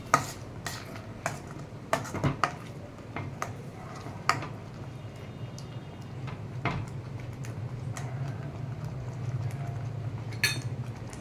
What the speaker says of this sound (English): Now we'll add the drained out paneer pieces one by one. And mix it gently.